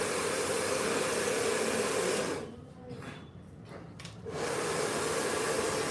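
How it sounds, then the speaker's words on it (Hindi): A blow dryer blows hair during an Indian woman's haircut, a loud steady roar close by that muffles for about two seconds midway and then comes back at full strength. "वहाँ पर वैसे ही हम करेंगे ब्लो ड्रायर"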